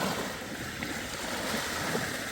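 Water rising around tents at a campsite in hot wind: a steady, loud, broadband rush of water and wind, continuous and close throughout, with no voices.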